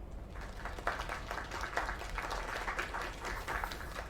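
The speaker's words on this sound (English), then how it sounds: "Another round of applause." Audience applause in a video game scene, a steady wash of clapping from a crowd that holds at an even level throughout without a break, with no speech over it.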